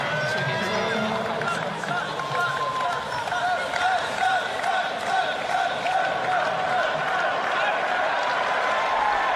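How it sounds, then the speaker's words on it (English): A tennis crowd at a US Open quarterfinal makes a sustained murmur with scattered boos and some clapping, a broad continuous hum of many voices, while a voice talks over it. "A few boos from the crowd."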